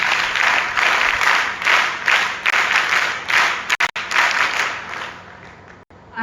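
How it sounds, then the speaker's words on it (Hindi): An audience at a live Arya Samaj gathering claps for two speakers, loud sustained applause rising and falling in waves, then tapering off near the end. "एक बार आचार्य जी और हमारी डॉक्टर आयुषी जी के लिए वीर ताली।"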